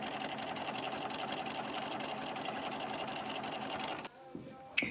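A sewing machine stitches around a pipe cleaner in a rapid, steady mechanical whir for about four seconds, then stops, followed by a few faint handling clicks.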